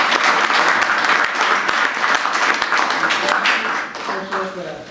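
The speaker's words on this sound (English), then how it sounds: "Round of applause." A city council meeting audience gives a round of applause, loud dense clapping from a crowd filling the room, sustained then thinning in the final second, with a few sharp individual claps standing out.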